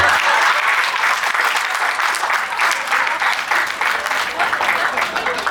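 Audience applause at a live Hindi comedy conversation session with Surendra Sharma, a dense, steady wash of many hands clapping that fills the whole stretch at fairly close range, with no talk over it.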